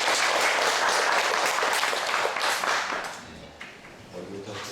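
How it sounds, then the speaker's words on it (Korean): Church congregation clapping together in a worship service, a dense broadband patter that holds strong for about three seconds, then thins and fades. "우리 박수로 축복할까요?"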